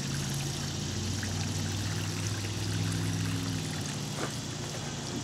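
Water poured from a watering can onto cabbage plants, a steady close splashing trickle that runs continuously without a break.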